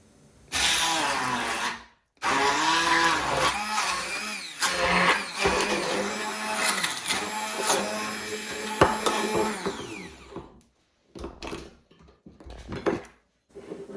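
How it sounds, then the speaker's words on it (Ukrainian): A loud electric blender whirs through cottage cheese and egg in several sustained bursts with brief pauses, ending in shorter stop-start pulses. "Кисломолочний сир з'єднуємо з яйцем та перебиваємо блендером до однорідної кремової консистенції."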